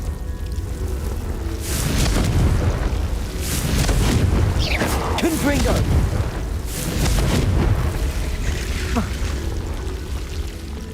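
Confringo spell explosions in the video game Hogwarts Legacy, a run of loud booming blasts with rumbling tails and whooshing streaks, one after another, with a voice shouting spell names over them.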